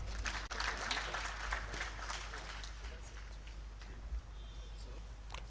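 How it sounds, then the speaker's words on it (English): Audience applause at a ministerial press briefing, a steady patter of clapping hands in a room under a low hum, moderately loud with a louder burst near the end. "Please clap for him."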